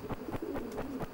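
Racing pigeon cooing close up in soft, low, repeated pulses, about five evenly spaced coos in quick succession against faint background hiss.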